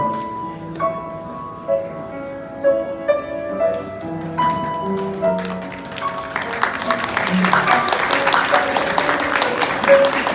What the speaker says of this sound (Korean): 다시 한번 축복의 박수를 더해 주시길 부탁드리겠습니다.